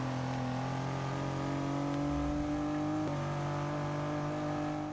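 Pontiac Aztek engine in the Forza 6 racing game, a steady moderate whine and drone with gradually shifting pitch as the car drifts, fairly faint and alone without talk.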